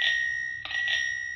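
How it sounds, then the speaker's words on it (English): The small bicycle bell on a Forth Bikes hire e-bike gives two quick bright dings, the second following about half a second after the first, close and clear with no talking. "And there's the wee bell."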